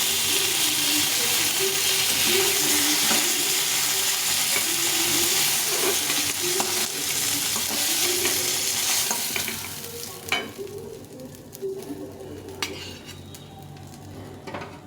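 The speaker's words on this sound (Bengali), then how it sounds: "মাছগুলো সব ভেজে নিলাম" Small shol fish fry in hot oil in a pan, a dense, steady sizzle heard close up with occasional scrapes of a utensil against the pan, the frying easing off over the final seconds.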